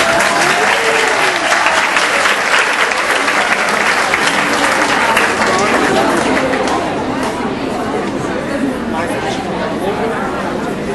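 Loud, sustained applause fills a youth parliament assembly hall as a guest joins the panel, with crowd chatter and talk mixed into the clapping.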